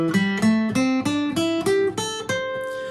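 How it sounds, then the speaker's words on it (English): An electric guitar plays the minor pentatonic scale, eight single notes picked one after another in a steady ascending run, each clearly attacked and ringing alone without accompaniment. "There's also scales like the minor pentatonic scale."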